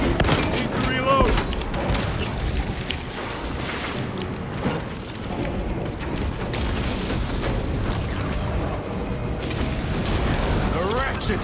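Gunfire and mechanical clatter from the Warhammer 40k Space Marine 2 video game, dense continuous bursts and booms with game voices speaking over the combat.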